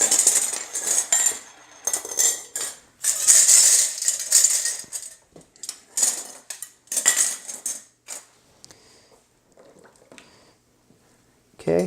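Metal canning lids being set onto jars packed with deer meat, giving a close run of bright metallic clinks and rattles in bursts, then quieter scattered taps and a final clink.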